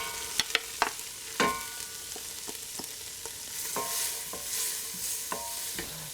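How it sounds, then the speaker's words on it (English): Chopped leeks cook in melted butter in a saucepan on medium-low heat, giving a soft, steady sizzle with scattered stirring scrapes and clicks close by, no voices. "cook the leek on medium to medium-low heat for about 5 to 7 minutes"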